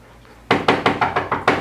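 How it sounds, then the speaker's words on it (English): Six firm knocks on a wooden door in a steady rhythm, close and loud, after a brief quiet moment. "we'll go out and knock on the door"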